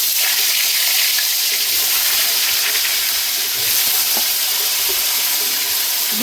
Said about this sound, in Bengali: তেল গরম হয়ে গেছে, পটলগুলো ভেজে নেব।